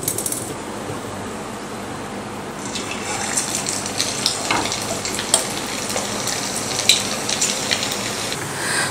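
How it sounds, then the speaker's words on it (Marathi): Spring samosas deep-frying in hot oil, a steady close bubbling sizzle with crackling pops throughout, fairly loud and continuous with no talking. "आणि अशाच पद्धतीने आपण बाकीचे समोसे सुद्धा तळून घेऊयात।"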